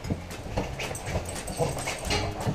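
Two dogs whine and whimper during brushing, a close run of short, high yips and soft cries over the rustle of the brush.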